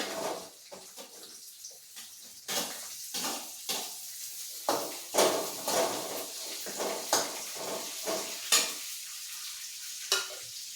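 Garlic and green chillies sizzle and fry in a pan of oil while being stirred for a fish pickle, with repeated scraping stir strokes over a faint, steady crackle, close and fairly quiet.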